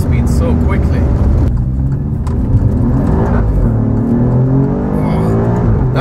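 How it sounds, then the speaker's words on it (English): Alfa Romeo Giulia Quadrifoglio with a bi-turbo V6, accelerating flat out out of a corner: a loud, sustained engine drone rising in pitch, heard close from inside the car. "that was flat out accelerating out of a corner"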